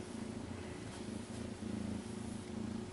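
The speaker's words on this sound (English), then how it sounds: "Heck of a purr." Siamese cat purring up close, a steady low rumbling purr with rhythmic pulses that swell and ease over a few seconds, with no talking.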